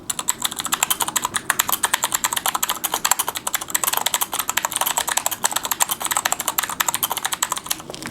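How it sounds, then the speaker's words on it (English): A mechanical keyboard clatters under fast, continuous typing, each loud crisp click close and distinct in a dense, uneven rhythm with no voices. "I got a mechanical keyboard. It makes a very loud clicking sound."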